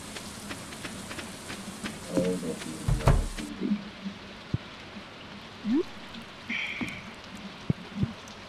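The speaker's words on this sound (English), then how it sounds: "It's raining in game and in real life." Steady rain hiss from the Stardew Valley video game, a continuous soft wash with scattered light drips and taps, moderately quiet throughout with no speech.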